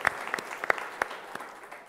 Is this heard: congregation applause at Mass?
yes